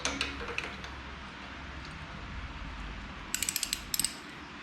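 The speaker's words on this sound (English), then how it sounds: "Now I have my 17 millimeter wrench, righty tighty, lefty loosey, righty tighty." A 17 mm wrench works on the fork of a 2008 Honda VTX 1300, with a few faint metallic knocks early on and then quick bursts of sharp ratcheting clicks near the end.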